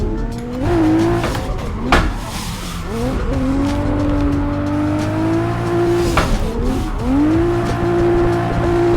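A drifting car in the Assetto Corsa racing game revs hard while tires squeal through a feint entry, engine pitch rising and falling across two long slides, loud and continuous with no speech.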